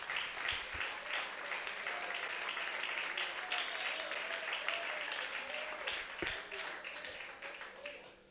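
A church congregation claps for Jesus during a sermon, steady crowd applause lasting several seconds with faint voices and tones mixed in, tapering off at the end.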